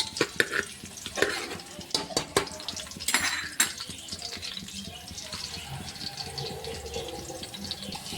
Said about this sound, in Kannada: ಇವಾಗ ಬೆಳ್ಳುಳ್ಳಿನ ಹಾಕೊಳ್ಕತ್ತೀನಿ ನೋಡಿರಿ ಸ್ವಲ್ಪ ಇದು ಬೆಳ್ಳುಳ್ಳಿ ಫ್ರೈ ಎಣ್ಣೆ ಒಳಗೆ